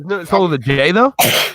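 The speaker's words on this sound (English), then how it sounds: "Bless you, whoever sneezed." A single short, sharp sneeze bursts out right after a person speaks.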